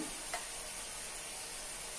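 Mushrooms fry in a pan with a steady, even sizzle that holds for the whole two seconds, with one faint clink near the start.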